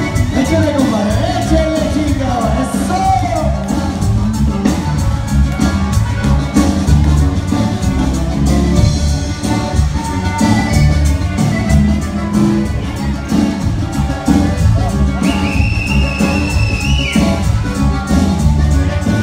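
A live band plays huapango music on stage at a quinceañera, with dense full-band sound throughout and a busy crowd audible beneath the music.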